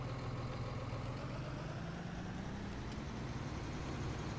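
A tractor engine idles in Farming Simulator with a steady, low, mid-loud rumble that holds unchanged throughout, and no other sounds stand out.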